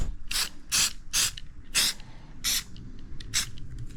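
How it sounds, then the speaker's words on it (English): A rattle can of black spray paint hisses in six or seven short, sharp bursts at close range, separated by brief pauses. "little rattle can of black to help keep them from rusting"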